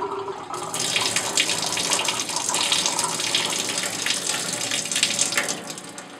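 Used second-bath chemistry is dumped from a C-41 color film developing tank, a steady close gushing pour of liquid running into a sink for several seconds.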